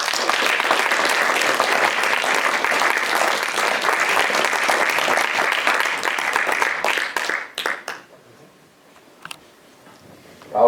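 Theatre audience applause, dense sustained clapping for about seven seconds that thins into scattered claps and fades to near silence, followed by a faint noise at the end.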